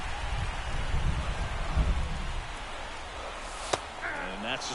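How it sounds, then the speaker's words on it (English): Rain falls at a baseball stadium during the first game of the playoffs, a broad steady hiss of moderate loudness with a single sharp crack partway through. "First game of the playoffs, and they got it raining."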